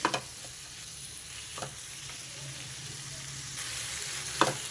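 Onion and tomato with salt fry in a pan for a mushroom masala curry, a soft continuous sizzle with a few sharp utensil clacks and stirring scrapes at the start and end.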